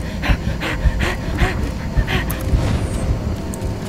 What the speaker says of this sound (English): Tired of listening to her fucking breathing.